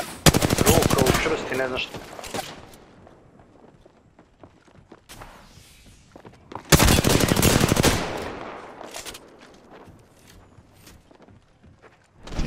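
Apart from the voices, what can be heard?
gunfire in video game Apex Legends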